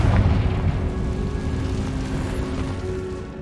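A Confringo fire-blast spell from Hogwarts Legacy goes off as a heavy, rumbling boom that starts loud and near, then trails into a sustained roar across the whole stretch with no talking.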